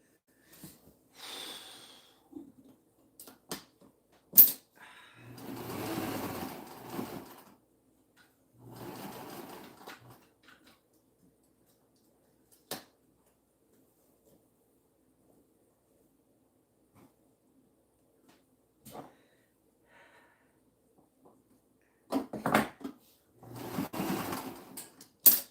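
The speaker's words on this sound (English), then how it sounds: "Put that foot down, the presser foot down, Bev, or you'll get this all messed up again" A sewing machine stitches the last seam in several separate bursts of a few seconds each, fairly close and moderately loud, with quiet pauses and small clicks between runs.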